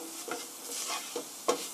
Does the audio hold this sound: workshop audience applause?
no